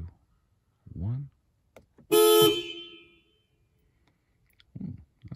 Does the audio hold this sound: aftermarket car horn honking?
yes